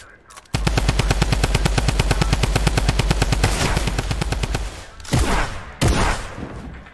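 Rapid automatic gunfire from a weapon in a video game rattles off in a long, loud, evenly spaced burst lasting several seconds, followed by a few shorter bursts.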